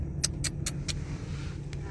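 Road traffic heard from inside a vehicle stuck in congestion, a low steady engine and road rumble running throughout, with several sharp clicking or ticking bursts near the start.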